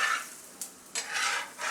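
Puffed-rice pancakes frying over a medium gas flame, a few scraping strokes of a spatula as they are flipped over a faint sizzle, close and quiet.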